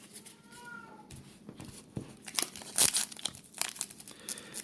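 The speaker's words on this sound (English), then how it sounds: "Yeah, that would be my cat, Snoopy." A Red Point Siamese cat gives a few short meows close by, mixed with crinkling and rustling handling noises, with no talk.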